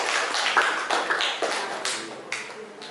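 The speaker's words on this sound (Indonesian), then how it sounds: "Tepuk tangan untuk kelompok 4." Applause from a classroom of students for a presenting group, a dense patter of many hands clapping close by and fairly steady, swelling slightly with individual sharp claps.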